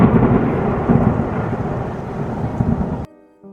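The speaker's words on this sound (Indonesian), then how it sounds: "saat jarak beberapa meter kepada Didi, kilatan petir kembali menyambar, membuat alam beberapa detik menjadi terang." Thunder from a lightning strike during a storm rolls as a loud, sustained rumble for about three seconds and then cuts off abruptly, with no talking.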